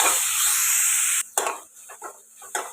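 Tomatoes sautéed with onion, ginger and garlic in a pan for tomato kuruma, with a loud steady sizzle that breaks off into a few short scraping stirs.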